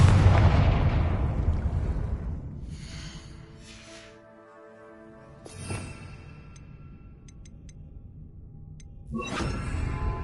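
In the Hogwarts Legacy video game, a Confringo explosive spell lands with a heavy, booming blast that rumbles and fades into a ringing tail. A second burst follows near the end of the clip.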